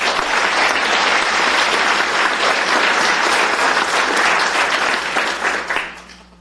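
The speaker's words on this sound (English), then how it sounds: "Let's give him a round of applause." Audience applause at a Tarrant County commissioners court meeting: a dense, steady roar of clapping fills the room at full strength for several seconds, then tapers off and fades out at the end.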